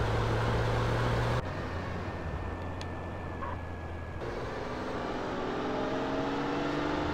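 A car drives in the video game GTA San Andreas, its engine humming at a steady moderate level with pitch shifts and abrupt cuts, some faint tonal game sounds over it and no talking.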